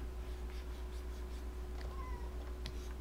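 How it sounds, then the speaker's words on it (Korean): A cat meows faintly in the background of a quiet room, two or three soft, brief calls over a steady low hum, with no talking. "지금 뒤에서 고양이가 뭐라 말 거는데 무시하고 있습니다"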